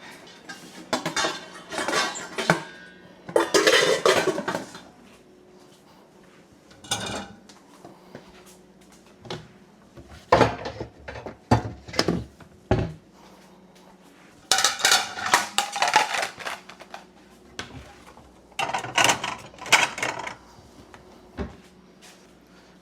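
Dishes, pots and cutlery are washed in a small home kitchen. Irregular bursts of clattering crockery, clinking utensils and knocks repeat over about twenty seconds, with quiet gaps between them.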